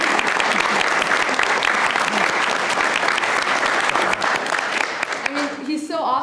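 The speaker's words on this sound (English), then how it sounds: "So can we just give a round of applause for Mr. Butcher?" A crowd at a school student spotlight event applauds steadily and loudly, dense clapping that thins out near the end as voices begin.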